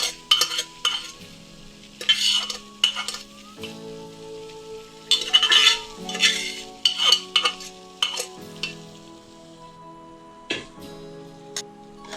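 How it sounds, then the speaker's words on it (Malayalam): Cooked clam meat being stir-fried in a pan, heard as intermittent bursts of scraping and sizzling between quieter moments, with steady background music underneath. "ബാക്കി വെന്ത് കഴിഞ്ഞിട്ടുള്ള കക്കയിറച്ചി അതിലേക്കിട്ട് നന്നായിട്ട് ഇനി നല്ലപോലെ ഫ്രൈ ചെയ്ത് നമ്മൾ എടുക്കണം."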